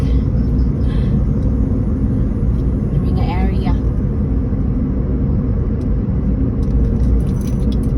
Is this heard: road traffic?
yes